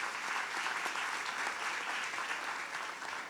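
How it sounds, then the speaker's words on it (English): Crowd at a business pitch competition applauds the participants, steady dense clapping heard alone at moderate distance and fairly quiet. "Another round of applause for everybody."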